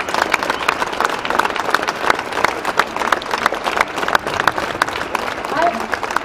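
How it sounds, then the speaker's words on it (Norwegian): Sustained applause from an audience at a 2009 rally in Norway protesting the award of the Fritt Ord prize, a dense steady wash of many hands clapping with crowd noise mixed in throughout. "Gi en stor applaus til Sofie Frøysa."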